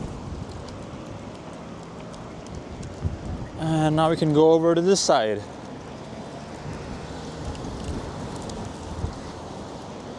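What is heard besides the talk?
strong wind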